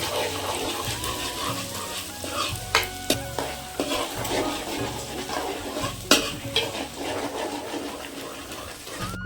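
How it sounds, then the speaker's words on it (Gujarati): Ginger-garlic paste sizzles in a pan with browned onions while a spoon stirs and scrapes, producing a steady frying hiss punctuated by sharp clinks and scrapes, close up and without voices. "હવે નાખશું આદુ લસણનો પેસ્ટ. એને પણ થોડીક વાર હલાવશું"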